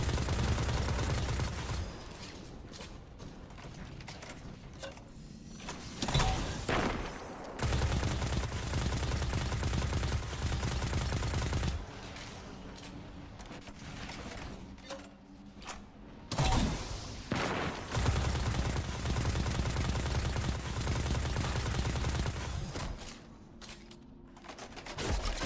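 Enemy gunfire in the video game Destiny 2 Lightfall, loud sustained bursts of automatic fire filling most of the stretch, broken by a few short pauses between volleys.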